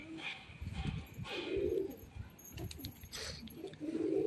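A pair of Siraji pigeons, a long-kept domestic breed, coo softly in low repeated murmurs, with some faint background noise.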